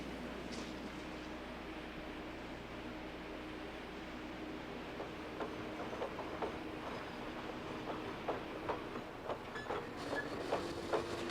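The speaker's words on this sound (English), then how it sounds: "The loaded trams were moved from the tie yard into the treating cylinder." Trams loaded with railroad ties roll along a track at a tie-treating plant with a steady rumble, and rhythmic clacks of wheels over rail joints grow more frequent over time.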